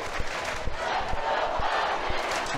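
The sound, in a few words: crowd cheering for the Huskies at an ice hockey game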